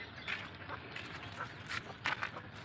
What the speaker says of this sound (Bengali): সব মুরগিগুলো এবার ধান ক্ষেতের মধ্যে ঢুকবে